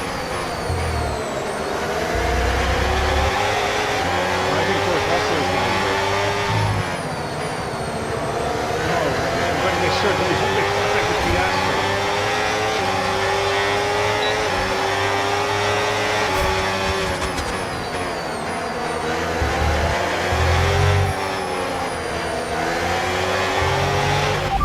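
F1 car engine from the F1 26 racing game, an Audi team car at the Qatar Grand Prix, screaming through rising and falling revs with gear-shift sweeps, loud and continuous for the whole stretch, with a race engineer's radio voice over it.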